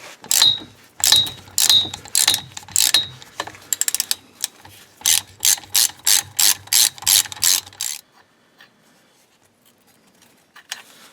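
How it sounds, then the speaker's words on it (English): A 3/8-inch ratchet with a 9/16-inch deep socket removing bolts from the transfer case encoder motor of an S10 Blazer 4WD. Loud, close bursts of rapid clicking repeat in quick strokes, then stop, with one faint click near the end. "I'm using a 3/8 inch ratchet with a 9/16 inch socket"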